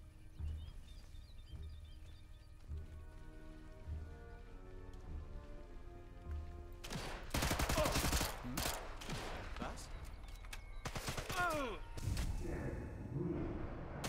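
Gunfire in the video game Sniper Elite 5: a cluster of sharp shots bursts in around the middle, with more scattered cracks later, over a steady rain-like ambient bed.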